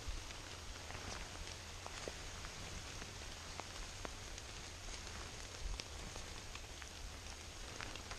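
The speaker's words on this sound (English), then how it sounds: "And I'm getting rained on." Steady patter of rain falling on a hiking trail, a dense continuous hiss with scattered close drops tapping on surfaces, no voices.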